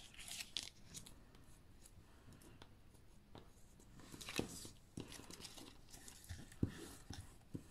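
Scissors trimming excess paper at a craft table, with faint, quiet snips and rustles scattered irregularly, close and soft with no voice over them.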